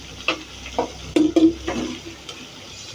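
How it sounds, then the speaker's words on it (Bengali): A spatula stirs fish momo filling in a pan, giving a few scraping, scuffing strokes over a faint sizzle, close by and fairly loud with short pauses between the strokes. "এখন এগুলো একটু নেড়ে মাখা মাখা করে"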